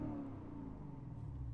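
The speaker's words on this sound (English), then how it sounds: "the exhaust gets throatier as you rev it out a bit" A 2019 Lexus GS F engine rumbles and revs steadily, a deep throaty exhaust note with no voices.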